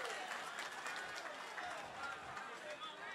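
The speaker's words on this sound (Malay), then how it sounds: "Simpan sorakan anda." A crowd cheers at a PKR candidate announcement for GE15, a dense, steady roar of many voices with scattered clapping, filling the hall evenly with no pauses.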